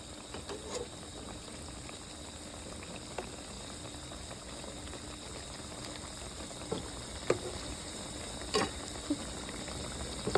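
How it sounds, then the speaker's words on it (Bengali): Malabar spinach fritters (pui shak bora) bubbling in hot oil, a steady soft frying hiss with scattered crackles and small pops throughout, no talking. "তো পুঁই শাকের বড়া প্রায় ভাজা শেষ, আর একটু লাল লাল হতে হবে"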